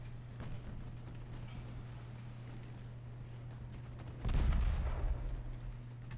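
Naval gunfire lands in the warship strategy game Ultimate Admiral Dreadnoughts: a low steady engine hum, then one heavy booming hit that swells and rumbles for about two seconds before easing off, no speech.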